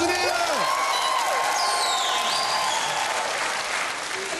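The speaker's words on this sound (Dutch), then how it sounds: "Grote applaus, dames en heren." Audience clapping loudly throughout at a ping pong game show, with a few cheers and whistles mixed into the steady applause.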